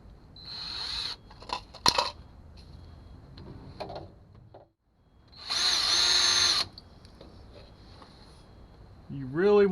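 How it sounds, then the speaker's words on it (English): A power drill with a small bit whines in two short bursts while work goes on around a 1985 Chevy C10 pickup, with voices and handling noises between the runs. "A drill."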